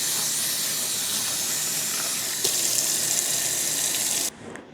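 Kitchen faucet running over chopped peppers being rinsed, a steady close hiss of splashing water that brightens midway and then cuts off abruptly near the end.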